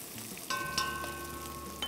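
Shallots fry in hot oil for brinjal gravy, giving a quiet, steady sizzle with a few soft clinks and stirring touches layered over it, with no voices.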